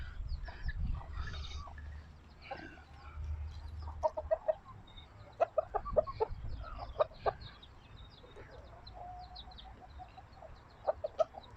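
Chickens cluck in an evening garden on a Thai farm, with repeated short clucks and calls scattered through the clip over a low background rumble.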